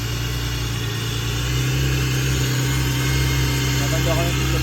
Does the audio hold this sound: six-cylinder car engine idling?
yes